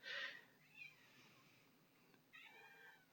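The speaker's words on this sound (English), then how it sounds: "I've got my cat shouting at me again." A cat meows faintly indoors, a short high cry at the start, a softer one shortly after and a longer drawn-out call near the end, all quiet and distant.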